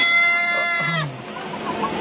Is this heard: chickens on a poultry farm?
yes